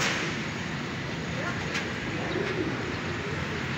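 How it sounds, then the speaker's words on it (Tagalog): A pigeon coos softly amid a steady wash of outdoor background noise, the calls faint and partly buried. "Sumisisid na yung kalapati niya."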